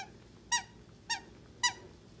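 A squeaker inside a vintage German mohair Zotty teddy bear gives three evenly spaced, bright, short squeaks, close and clear over a faint background hiss, with no talking.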